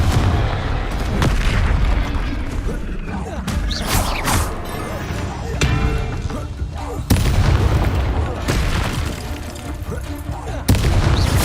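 Repeated fiery spell blasts from Hogwarts Legacy combat, Confringo bursts booming loudly several times over a dense, continuous battle mix, with a voice calling out between impacts.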